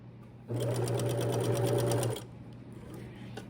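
A sewing machine stitching in one steady burst of about one and a half seconds, a fast even whir with a low hum, starting and stopping abruptly against a quiet room.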